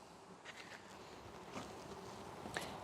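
Honey bees buzz steadily around an overwintered nucleus hive during an inspection, a soft continuous droning hum with occasional closer passes flying near the listener.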